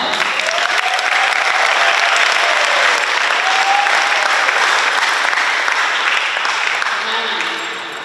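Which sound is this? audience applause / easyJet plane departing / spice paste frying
audience applause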